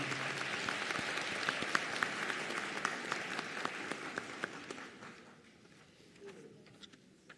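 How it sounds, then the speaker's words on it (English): Audience applause for nursing graduates at a college nursing pinning and graduation ceremony, a steady crowd clapping that holds for several seconds with scattered sharper claps, then thins and fades near the end. "Round of applause for these great graduates here"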